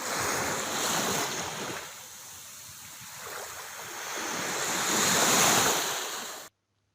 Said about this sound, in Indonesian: Yang kedua, suara ombak di lautan.